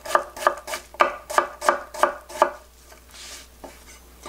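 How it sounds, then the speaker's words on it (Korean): A medium-sized pear sliced with a knife into thin square pieces: eight crisp, evenly spaced chops on a cutting board, close and clear, then a couple of softer taps. "나박하게 썰고 있습니다."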